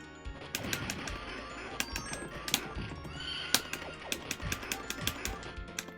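A horse neighs in an arcade-style video game, with brief whinnies and clopping hoofbeats punctuating a busy mix of game effects and music.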